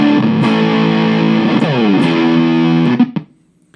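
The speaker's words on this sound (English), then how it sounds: "we come out of the double barrel into the Chase Bliss Zvex collaboration, the Bliss factory, the Fuzz factory" Guitar played through a Chase Bliss and Zvex Bliss Factory fuzz pedal: loud, thick sustained fuzz chords with a bending note in the middle, cut off abruptly by the gate near the end.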